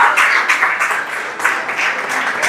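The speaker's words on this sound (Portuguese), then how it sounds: "Você pode aplaudir o Rei nesta noite." Congregation applauding at an evening church service, a steady wash of clapping from many hands that holds at an even level throughout with slight swells.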